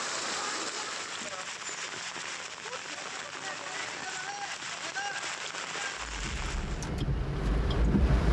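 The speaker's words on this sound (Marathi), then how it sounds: "पालघरमध्ये पावसाचा जोर अजूनही कायम आहे" Heavy monsoon rain pours down in Palghar, a dense, continuous roar of falling water with a deep rumble building toward the end.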